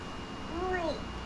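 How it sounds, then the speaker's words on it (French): A cat gives a single short, faint meow in a quiet home, with soft background sounds and no clear talk. "Ça, c'est un chat."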